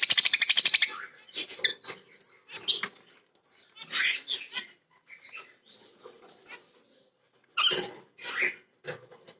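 Pet lovebirds, rosy-faced and Fischer's, kept for breeding while chicks are in the nest, give close, high chirps and scratchy calls in short irregular bursts separated by brief silences.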